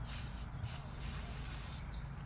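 A steady aerosol hiss from a spray can runs continuously with brief pauses, close by, with a low rumble underneath, in a tyre-changing setting.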